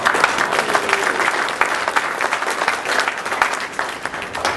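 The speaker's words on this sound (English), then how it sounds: "And I'd like for y'all to give Gary a round of applause." A crowd gives a sustained round of applause, dense, steady clapping from many hands at moderate loudness, continuing without pause for several seconds.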